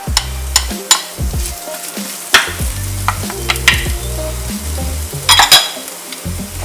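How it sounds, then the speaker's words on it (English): Chopped onions frying in hot oil, a steady sizzle with repeated scraping and clinking of a spatula stirring against the pan, close and clear with no talk. "Add in the chopped onions."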